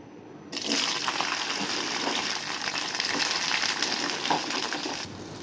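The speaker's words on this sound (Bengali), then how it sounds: "এই যে বরবটি ভাজা হয়ে গেল, এবার তেল ঝরিয়ে নিচ্ছি।" Long beans frying in hot oil for a Bengali vegetable pulao give a steady, loud sizzle that starts abruptly and holds evenly for several seconds before cutting off, with no voices.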